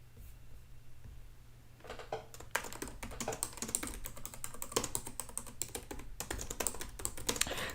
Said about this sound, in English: Sorry if y'all can hear me typing.